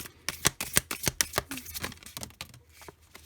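Playing cards being shuffled and dealt for a tarot-style pick-a-card reading, a rapid run of sharp riffling snaps and flicks, close and fairly loud, with no talking.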